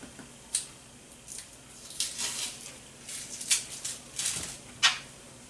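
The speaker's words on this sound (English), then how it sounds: "We're just going to slice off this other end, and then we're going to peel the excess skin off." A knife slicing off the end of an onion and peeling away its skin: scattered crisp cuts, scrapes and papery crackles, close up, with quiet pauses between sounds and no speech.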